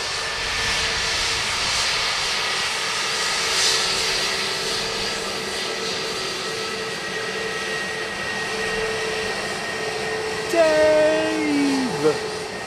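Jet airliner engines at Dublin Airport, a steady loud roar and whine that holds for the whole stretch, with a brief rising tone and some voices near the end.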